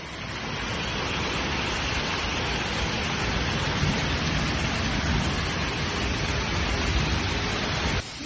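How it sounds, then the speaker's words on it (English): Heavy storm rain with hail pours down in La Rioja, Spain, a dense, loud, continuous roar of hiss and pattering that holds steady without pause. "The storm began around 8:30 p.m. with strong winds, accompanied by rain and hail"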